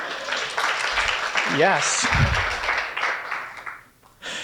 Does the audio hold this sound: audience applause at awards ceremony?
yes